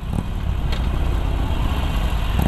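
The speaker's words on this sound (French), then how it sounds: "En sonorité, elle est assez étouffée, mais quand même, on reconnaît le bruit Harley." A Harley-Davidson Iron 883 motorcycle engine runs steadily with a deep, muffled rumble, continuous and fairly close, with no talking.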